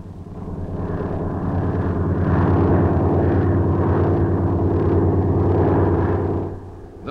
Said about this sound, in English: He demonstrates the principle of blade angle, which permits the machine to fly in any direction without tail rotor.